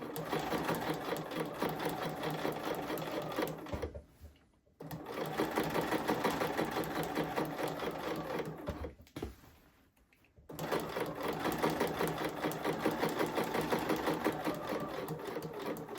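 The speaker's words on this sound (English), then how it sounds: "I'm just going to sew it up to the end here where I've made the snip." A sewing machine stitches the pocket lining of a blazer in close, steady runs of fast rhythmic needle clatter, stopping twice for a moment before resuming.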